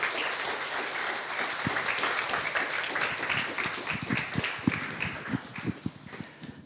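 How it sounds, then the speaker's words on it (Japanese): A congregation at a church special message gives a warm, sustained round of applause to welcome a speaker. It is dense, steady clapping from a roomful of people, with individual claps popping out near the front. "それでは大きな拍手を持ってお迎えしましょう。"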